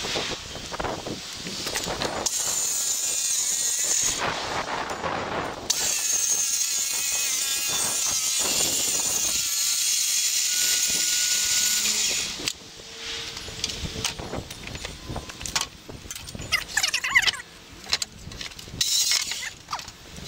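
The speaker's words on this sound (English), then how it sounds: "I'm using my cordless saw just because it has the sharpest blade at the moment right now." Cordless circular saw ripping wood shelves to width, a steady high whine lasting several seconds at a time in long cuts, with brief pauses between passes.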